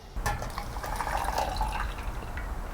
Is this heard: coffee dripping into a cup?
yes